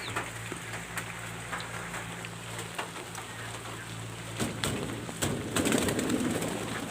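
Pigeons coo in steady low, repeated tones while rain falls around them, with scattered bird calls and a rising wash of rain and fluttering toward the end.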